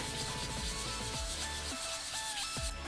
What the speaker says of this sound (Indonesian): kalian menggunakan amplas grid 400